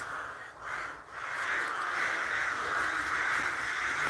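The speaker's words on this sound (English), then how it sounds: "Can you hear the crows, guys?" Several crows caw loudly and repeatedly at a historic churchyard, their harsh calls overlapping into a steady raucous chorus with no talking.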